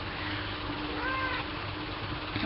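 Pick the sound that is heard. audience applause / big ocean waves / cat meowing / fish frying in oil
cat meowing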